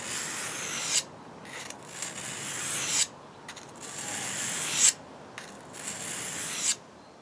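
Rhythmic rasping strokes of a wood carving knife being sharpened on a 250 grit stone, about five or six scraping passes with short pauses between, close and quiet.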